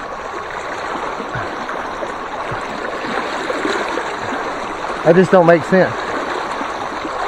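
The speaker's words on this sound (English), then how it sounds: "And some heavy current." Steady rushing of heavy river current over rocks at Landsford Canal State Park, heard from a kayak as a continuous close wash of water, with someone briefly speaking over it near the end.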